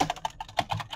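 Computer keyboard keys are typed in a quick, uneven run of crisp clicks, close by and alone, with no talking.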